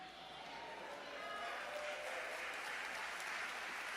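A church congregation applauding steadily, a dense wash of clapping that swells slightly after the first second and holds, with no talk over it.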